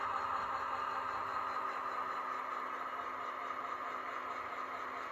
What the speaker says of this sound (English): The only other sound you hear out here right now